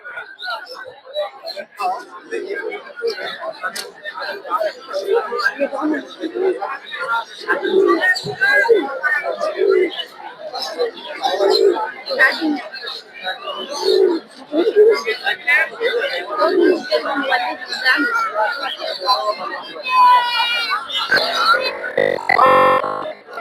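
Pigeons coo continuously at a pigeon and bird market in Putia, Narsingdi, in soft, repeated rounded calls close by, with someone talking over them throughout and a burst of chirps near the end.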